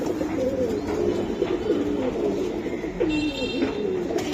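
Pigeons of a fancy breeding stock coo nearby in repeated soft, rolling calls that overlap one another, over a low murmur of background noise.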